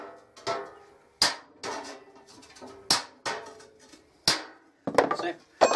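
A bolster chisel is struck with a hammer against sheet metal clamped in a vise to mark a bend line while building bird nesting boxes: about seven sharp, ringing blows spaced irregularly, loud and close.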